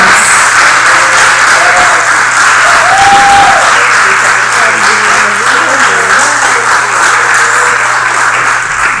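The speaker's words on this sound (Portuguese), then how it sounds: "Vamos receber a serva do Senhor aqui com palmas." A church congregation applauds steadily as a woman preacher comes up to the stage at a Thursday service, dense clapping with a few murmuring voices and brief sung or called-out tones over it.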